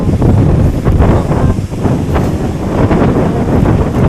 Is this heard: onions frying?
no